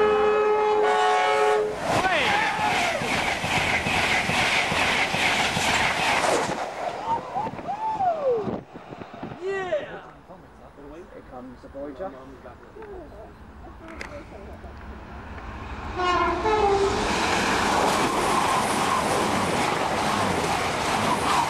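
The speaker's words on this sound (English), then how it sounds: "One of the last trains of the day, the Voyager." A Voyager passenger train passes at Northallerton, sounding its horn with long blaring tones at the start and again near the end, over a loud rushing roar of passing carriages that fades in the middle, with people talking nearby.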